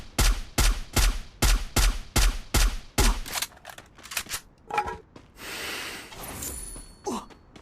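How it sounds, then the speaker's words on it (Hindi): Gunfire from a shooter game comes in a rapid burst of about eight evenly spaced, loud, punchy shots, followed by scattered softer movement noises and a brief hissing rush, close and with no talking. "मैं एनिमी को बैक फायर देता हूँ"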